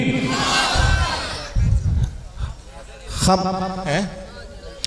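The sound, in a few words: crowd shouting the takbir chant in response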